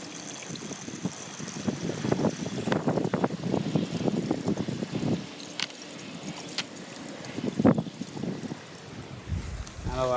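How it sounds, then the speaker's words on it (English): Black water drains from an RV waste tank hose into a dump station, heard as soft trickling and gurgling with irregular bursts and splashes, fairly faint and close, with brief rustling handling sounds. "I'll lift the hose to help drain everything from it."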